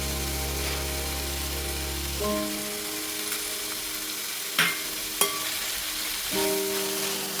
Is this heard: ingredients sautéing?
yes